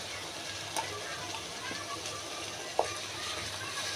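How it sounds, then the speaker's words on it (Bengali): Spice paste and chopped onion for beef korma sizzle in a pan with an even, continuous hiss, marked by a couple of faint clicks from stirring. "মশলাটা দিয়ে মশলাটাকে খুব ভালো করে একটু কষিয়ে নেব"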